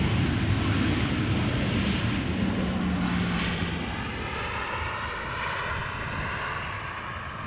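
A jet touches down on the Polderbaan runway at Amsterdam Schiphol with a loud, broad roar and rushing noise that slowly fades as it rolls out, with no voices.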